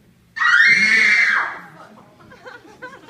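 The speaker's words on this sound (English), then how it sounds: "can do a bit of horror movie scream" A person lets out a loud, high-pitched horror-movie-style scream at a high school grad night event, held for about a second and then trailing off into crowd noise and chatter.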